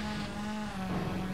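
A race car engine in the V-Rally 3 video game drones at a steady pitch, a continuous buzzing hum that shifts slightly partway through, with no voices.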